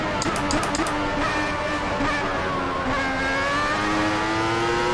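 A 1994 Formula One car's high-revving engine at the German Grand Prix in Assetto Corsa, screaming loud and close as it climbs steadily through the revs after a quick gear change, alone without talk.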